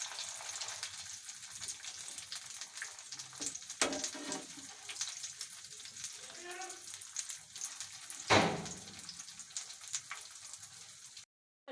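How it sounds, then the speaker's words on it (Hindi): Vegetable pakoras fry in hot oil and are turned over, giving a continuous crackling sizzle broken by a few sharper clatters and one louder burst of spattering. "ऐसे हम इनकी साइडें चेंज करते जाएंगे और इनको पकाते जाएंगे।"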